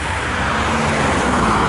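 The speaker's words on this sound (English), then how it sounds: "I'm not in love with all these cars, all these traffic right now." Busy street traffic with cars passing close by produces a loud, steady roadway roar with a low engine rumble, continuous and unbroken, with no one speaking.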